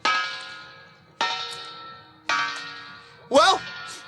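A doorbell clangs three times at a slow, even pace, each strike ringing out and fading, followed by a sharp voice-like cry.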